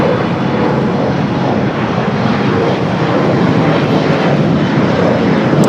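Airliners taxiing at Los Angeles LAX airport, a continuous broad jet-engine roar at moderate distance, steady throughout with no talk.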